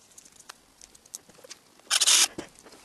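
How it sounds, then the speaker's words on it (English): Screws come out of a metal plate: faint small clicks and taps, then a brief, loud, close whirring burst lasting about half a second, with no talk. "Now we'll take those out."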